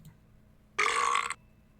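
A single loud, close burp lasts about half a second against a quiet room background.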